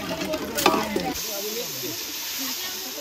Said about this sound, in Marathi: हिंगाची फोडणी